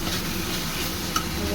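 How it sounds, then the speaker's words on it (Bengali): Spice masala frying in oil for aloo dum, a steady loud sizzle with soft stirring scrapes running continuously, no talking. "তেল ছাড়া পর্যন্ত কষাতে থাকবো।"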